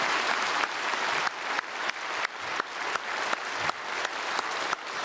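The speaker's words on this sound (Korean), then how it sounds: "잘 다녀오실 수 있도록 여러분 박수로 축복해 주시면 감사하겠습니다" A church congregation at a Sunday worship service claps steadily together, a dense, even wash of applause lasting several seconds with no voice over it.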